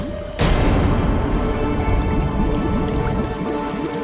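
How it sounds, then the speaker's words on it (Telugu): Water bubbling, gurgling and dripping; the sound starts abruptly and becomes a loud, continuous stream of bubbly liquid sounds with no talking. "అక్కడ అక్కడ బుడగలు వస్తున్నాయి"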